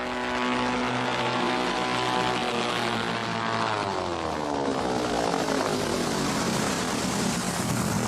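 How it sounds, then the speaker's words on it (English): A seaplane's propeller engine drones steadily and loudly, its pitch sliding downward partway through as the aircraft passes, with no voices present. "He also has his own seaplane."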